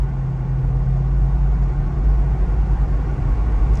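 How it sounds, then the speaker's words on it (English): A 1979 Chevrolet Blazer Cheyenne idles steadily through a new muffler and exhaust, giving a deep, even rumble with a low hum, close and fairly loud, with no voices. "We did put a new muffler and new exhaust on it"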